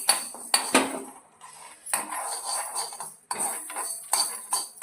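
Fenugreek seeds fry in a pan for lemon pickle while a metal spoon stirs them, producing a series of sharp clinks and scrapes against the pan in irregular bursts, close and fairly clear.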